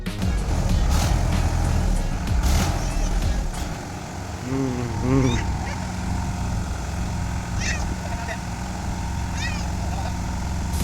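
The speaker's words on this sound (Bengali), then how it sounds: "ট্রাক্টর গাড়ি দিয়ে মাটি কাটতেছে" A tractor cutting soil in a muddy field on a cold, windy day gives off a steady low engine rumble throughout, with brief voices and other faint sounds over it.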